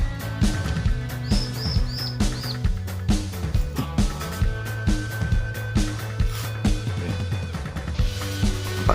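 Bar-winged prinias chirp close by in a housing estate, short bright calls repeating over a busy mix of rhythmic clicking and knocking sounds.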